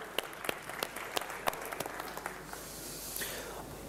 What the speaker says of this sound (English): Let's give the conference organizers a round of applause.